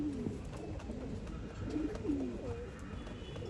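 Guldar pigeons, males and white-eyed females kept for sale in Bangalore, give soft, intermittent coos that rise and fall over a faint steady background hum, with no one speaking.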